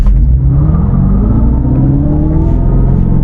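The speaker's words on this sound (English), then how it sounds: "it spun the rear tires, but that was not a burnout" An electric car styled as the General Lee spins its rear tires in donut mode, producing a loud, close, continuous rumbling roar with a slowly rising whine.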